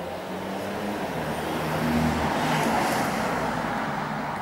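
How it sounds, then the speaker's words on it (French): A car passes at night on a nearby road, a steady broadband rush of tyres and engine that swells slightly near the middle and fades a little, with no voices. "Une voiture qui passe."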